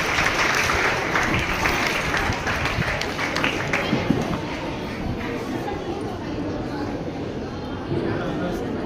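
An audience at a training camp for pregnant women claps steadily in a dense, sustained round of applause, with some crowd chatter mixed in.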